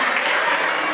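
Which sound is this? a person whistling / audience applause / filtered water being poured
audience applause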